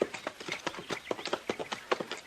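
Horses' hooves clip-clop in a radio western drama, a steady brisk run of close, crisp hoofbeats on hard ground with no voices over them.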